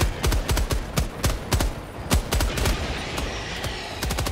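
Machine gun fire from Helldivers 2 crackles in rapid, uneven bursts of sharp shots, loud and close, with brief gaps between volleys and no speech.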